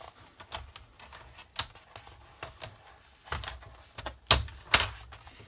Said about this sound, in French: Désolée pour les bruits de papier